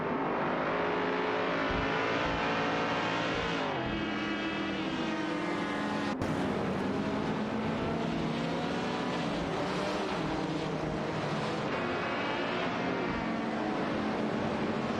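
Race cars, a Toyota Griffith 200 and a Porsche 904, howl around a track in a video game, with continuous loud engine drone and rising and falling revs as they pass, no voices.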